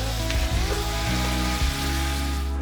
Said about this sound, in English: While the beef and the bacon were cooking